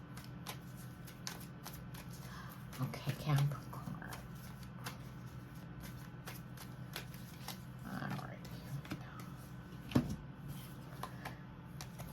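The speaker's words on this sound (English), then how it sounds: "give the cards a couple of shuffles here." Tarot cards are shuffled in several soft riffling bursts and flicks, interspersed with quiet talk and a low background hum.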